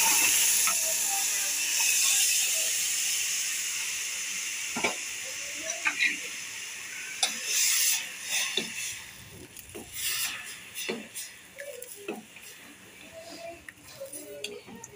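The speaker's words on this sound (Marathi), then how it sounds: "आता ह्याला छान असं तेलावर आपण परतून घ्यायचं आहे।" Chopped cooked greens sautéing in hot oil in a pan for a sour chukyachi bhaji, giving a steady bright sizzle and hiss with scattered stirring clicks and scrapes over about fifteen seconds.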